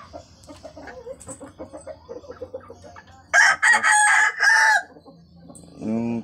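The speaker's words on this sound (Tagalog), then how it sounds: "tatlong tandang yung natira" A rooster crows loudly nearby in several strained bursts, following a stretch of softer clucking and low farmyard noise.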